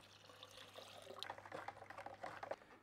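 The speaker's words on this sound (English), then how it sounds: "I'm just gonna add cold water this time." Cold water is poured into a container to dissolve hydroponic nutrient for a stock solution, making a faint, uneven splashing and gurgling for a few seconds with no talk.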